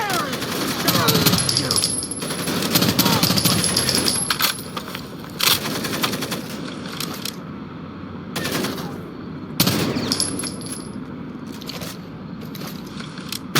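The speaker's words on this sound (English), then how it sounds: "Keep firing!" Gunfire in the Rainbow Six Vegas video game comes in dense bursts of rapid shots and crackling, rattling fire, with short pauses between volleys and voices shouting over the action.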